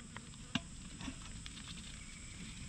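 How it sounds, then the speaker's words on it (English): Light rain patters steadily at a campsite beside a campfire in Byfield National Park, a soft continuous hiss dotted with occasional sharper drips and drops, with no voices. "It's raining."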